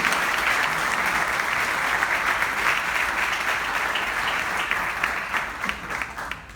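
An audience at a conference on higher education planning applauds to welcome a speaker, loud sustained clapping from a full room that tapers slightly at the end.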